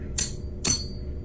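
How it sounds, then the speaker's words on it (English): A hammer knocks a cone onto a ring stretcher in two sharp metallic strikes about half a second apart, close and bright with a short ringing decay. "I'll just knock it in with the hammer."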